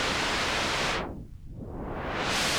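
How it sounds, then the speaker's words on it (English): A Waldorf Pulse 2 analog synth's noise source produces a loud white noise hiss, swept down into a dark muffled dip and back open again in a smooth filter sweep. "There's also a noise source. We get to that via VCA and turn up the noise."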